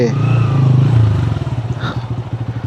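A motorcycle engine putters loudly and close at the Rangamati hanging bridge as the bike is brought in to park, its steady hum dropping into a slower, pulsing idle.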